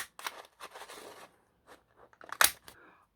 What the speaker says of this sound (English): I'm just basically going to cut out circles and stick them on.